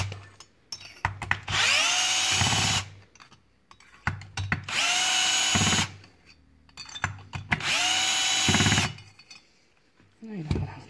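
A power tool whirs in three long, loud bursts, each a steady whining drone with a rising start, while unscrewing the cylinder of a seized Chinese petrol chainsaw, with brief clicks and handling noise in the pauses.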